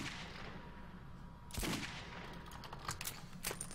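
Gunfire in the video game Metro 2033, a few sharp shots bursting through a low rumbling game ambience, fairly faint, with no talk.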